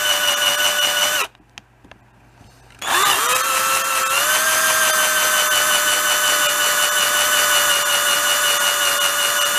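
A power drill with a hand-sharpened HSS split point bit drills into cheap steel: a loud, steady motor whine, a brief stop of about a second and a half, then the drill spins back up and runs continuously.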